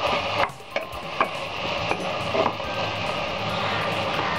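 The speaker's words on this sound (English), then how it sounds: "Saute the vegetables for about 3 minutes." Vegetables sautéing in a pan for Mumbai-style pav bhaji, a steady low sizzle with a few sharp clicks of a spoon against the pan, heard close and with no talking.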